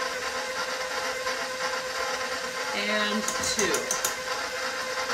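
A steady electric mixer whirs as it beats eggs into monster cookie bar batter, a continuous motor drone with a brief change in pitch partway through, while a person talks over it.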